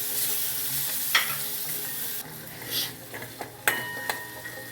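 Tomatoes and pav bhaji masala cook in a pan with a steady sizzle, broken by a few sharp scrapes and clinks as a spoon stirs, all fairly close and with no talking.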